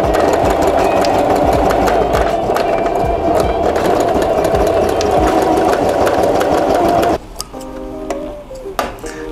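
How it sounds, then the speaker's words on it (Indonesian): A sewing machine stitches a label onto a canvas bag in a loud, continuous, fast mechanical whir with a rapid ticking rhythm, then stops abruptly near the end, leaving faint clicks and handling noise. "kita jahit labelnya terlebih dahulu ya teman-teman"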